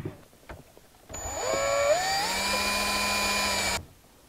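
A small drill whines steadily for a few seconds while drilling a small pinhole, its pitch rising as it spins up, then cuts off abruptly; close and fairly loud.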